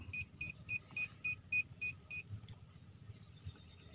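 Metal detector searching a century-old tree for treasure gives a run of about eight short, evenly spaced high beeps, then stops, over a faint low rumble of background noise.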